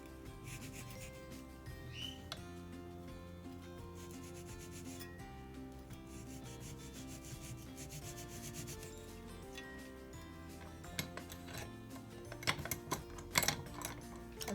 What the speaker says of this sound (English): I'm gonna cut that slot now